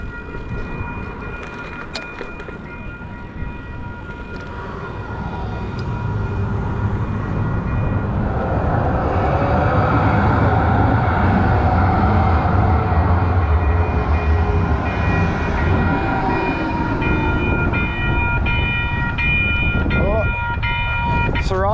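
A train travels along rails between stations, its rumble swelling from quiet to a loud, steady roll with a faint rhythmic clatter and occasional high squeals from the wheels.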